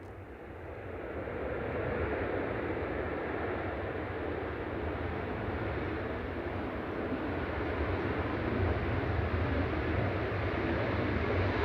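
A Ryanair Boeing 737-800 jet arriving from Brussels Charleroi at Manchester Airport produces a steady broad roar that swells after the first two seconds and holds loud and even to the end, with no talk.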